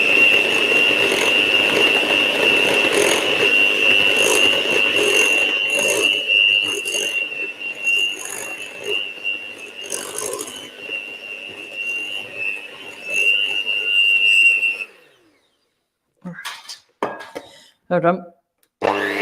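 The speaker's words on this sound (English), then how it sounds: "And then I'm just going to whisk those two together." Electric beaters whisk brownie cookie batter in a bowl with a steady, close, high-pitched whine that rattles against the bowl, then stop abruptly, followed by brief scraping knocks and a short spoken phrase.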